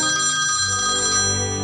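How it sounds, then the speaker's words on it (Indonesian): A telephone rings loud and close, a bright electronic ringtone with sustained tones sounding continuously for the whole moment. "Wah, si Juna telepon"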